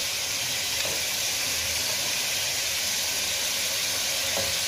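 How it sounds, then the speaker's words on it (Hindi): Chicken fries in a pan, giving a steady, loud, even sizzle and hiss that holds throughout with no talking. "चिकन को हम अच्छी तरह फ्राई करेंगे।"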